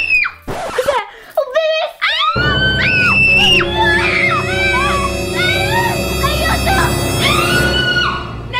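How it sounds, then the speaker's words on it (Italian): Women shriek in high, piercing screams that pile up and overlap almost nonstop over a dense, loud background, inside a bedroom where a bat is reported in someone's hair. "cosa sono queste grida?"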